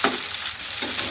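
Chaolet fries in a pan with a steady, close hiss of sizzling oil and a faint stir, heard alone for about a second.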